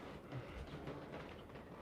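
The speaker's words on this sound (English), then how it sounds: "The train's going by." A train goes by outside a house, heard indoors from a kitchen as a faint, steady low rumble with soft rhythmic clatter.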